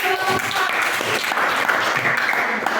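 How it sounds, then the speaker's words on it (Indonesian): A classroom audience applauds a student group's presentation during a performance exam, loud, close-up clapping from a modest crowd, fairly steady with scattered individual claps standing out. "kita beri aplaus dulu."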